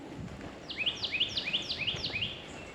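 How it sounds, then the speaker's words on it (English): Near a lake along a trail in a Florida reserve, one bird sings a quick run of about ten rising, sweeping chirps in two overlapping series, clear above faint background hiss. "Birds are singing."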